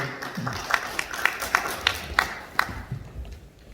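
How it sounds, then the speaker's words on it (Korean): Audience claps at a Gwangju appointment ceremony, a scattered burst of handclaps fading toward the end, with faint voices underneath. "방금 박수 한번 주십시오."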